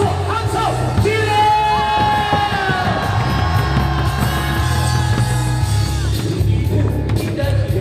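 A crowd at an outdoor political rally in Pohang claps and cheers, a dense, loud wash of applause, whoops and shouts that continues with music or amplified voices underneath.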